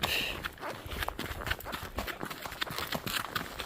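Horses walk on a ride toward a lake over varied, slightly broken ground, their hooves clopping in a steady, uneven rhythm close by, with soft trail noise and faint rustling around them.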